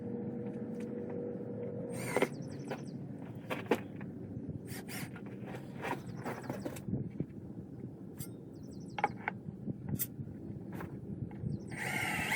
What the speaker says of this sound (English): drill a pilot hole and put screws in there